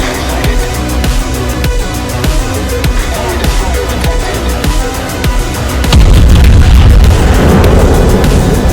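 Heavy naval gunfire from the German battleship Bismarck in a warship video game booms out loud and close, a dense string of deep blasts swelling into a heavier roar near the end.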